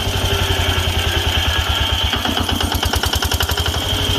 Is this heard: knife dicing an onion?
no